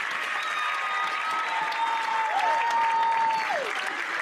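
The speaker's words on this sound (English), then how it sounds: "Let's give another round of applause for Ken Jones" Crowd applause at a high school varsity football game in Kansas, a steady sustained wash of clapping from the stands, moderately distant, with a faint whistle-like tone sliding through the middle.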